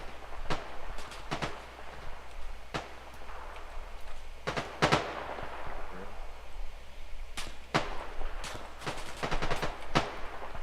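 Gunfire in the military shooter game Arma Reforger: scattered sharp shots and short bursts, some close and loud, others distant, spread unevenly across the stretch with a steady ambient background and no talk.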